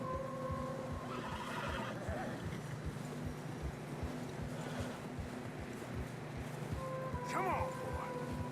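Horses in snowy mountain terrain in the video game Red Dead Redemption 2, a regular clopping walk under wind, with a loud whinny near the start and another near the end.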